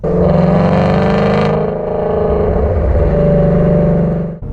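A Ford Mustang GT350R's engine roars steadily on an open road, a loud, sustained throaty drone with a slight dip and swell before cutting off abruptly at the end, no talking.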